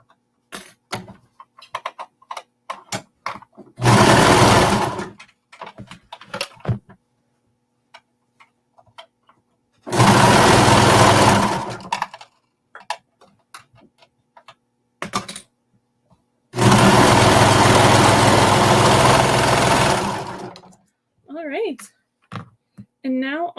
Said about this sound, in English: We're just going to baste this on 1/4 inch, not far.